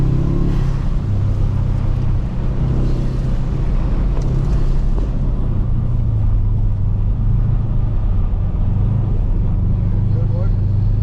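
A turbocharged Subaru drives on an ice track in Sweden, its engine giving a steady low drone with wind rush throughout, loud and continuous from start to finish.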